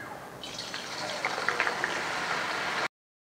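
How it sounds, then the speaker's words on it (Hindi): Potato chips for spicy aloo nimko frying in hot oil, a dense bubbling sizzle that rises as they drop in, with scattered crackles, then cuts off abruptly. "ऑयल अच्छा खासा गर्म होना चाहिए, तो फिर इसमें हम चिप्स डाल देते हैं"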